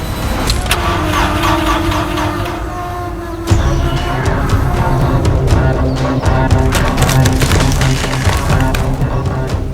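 A car engine cranks but fails to start, with a close, grinding mechanical whir that shifts pitch partway through and keeps turning over without catching, with no talking.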